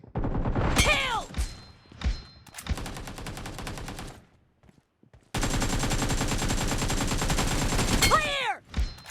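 Bursts of automatic gunfire in PUBG Mobile on a phone, long rapid volleys broken by short pauses and single shots, with whooshing game effects, loud and close.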